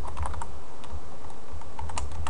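A computer keyboard being typed on in a steady run of fast, close, crisp keystrokes, with no voices over the clatter.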